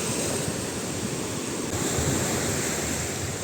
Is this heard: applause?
no